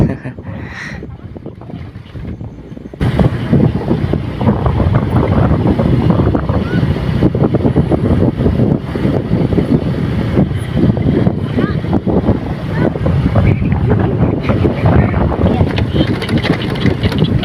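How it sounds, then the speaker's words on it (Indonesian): Strong west wind buffets the microphone in a dense, continuous roar that jumps louder after a quieter opening, with faint voices in the background. "di sini anginnya kenceng banget ya guys ya"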